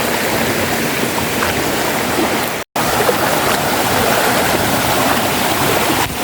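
A river flowing steadily in an outdoor setting, its broad rushing wash loud and close throughout, with one brief dropout near the middle and no voices.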